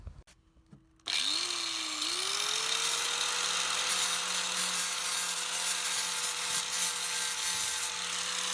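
A power sander starts up after a moment of quiet and settles into a steady, loud whirring grind against hardened fiberglass putty on a model boat hull, continuous to the end.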